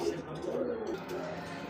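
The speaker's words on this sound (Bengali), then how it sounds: "দর্শক এখানে এক জোড়া দেখতে সবজি কালার কিং কবুতর" A pair of large green-coloured King pigeons cooing, low soft rolling coos close by, with a voice speaking over them.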